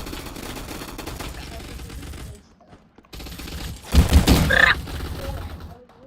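Uzi and sniper fire in an arena shooter game crackle in rapid bursts, with a brief silent gap and then a louder cluster of shots under faint talk.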